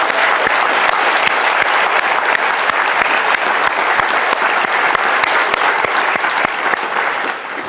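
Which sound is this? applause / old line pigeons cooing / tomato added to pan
applause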